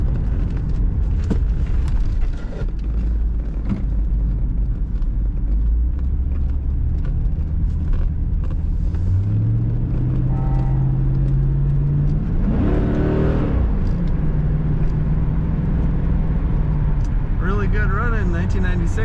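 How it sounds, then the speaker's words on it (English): A 1996 Chevrolet Corvette convertible pulls away and accelerates around a roundabout, its engine note climbing and steady from the cabin, with talk running over much of the drive. "Go around this roundabout and accelerate one more time."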